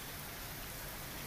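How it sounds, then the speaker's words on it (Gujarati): Heavy downpour over Mehsana city and district in Gujarat: a brief, faint, even hiss of steady rainfall with no voices. "મહેસાણા શહેર અને જિલ્લામાં ધોધમાર વરસાદ વરસ્યો."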